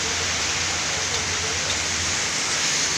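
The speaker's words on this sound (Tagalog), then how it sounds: "Ngayon na sobrang ulan din." Heavy rain pours down steadily over a city in Consolacion, Cebu, a dense, continuous hiss with no breaks, fairly loud and close, with no voices.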